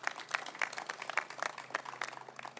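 Scattered audience clapping for the President at a safari rally launch event at Moi International Centre, Kasarani, a brief, thin burst of applause from a modest crowd heard at a distance with no talking.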